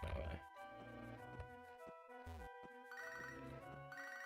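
Several phone notification chimes for incoming text messages ring out in quick succession, tonal and repeated, over a steady background of music or game sound; no one speaks during them.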